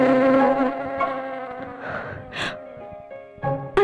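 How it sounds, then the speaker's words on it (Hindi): An insect buzzes close by in a dubbed romantic action movie scene, a loud droning hum wavering in pitch over several seconds, joined near the end by brief sharp hisses. "अरे मधुमक्खी।"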